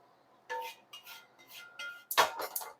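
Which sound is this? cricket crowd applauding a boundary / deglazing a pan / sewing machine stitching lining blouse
deglazing a pan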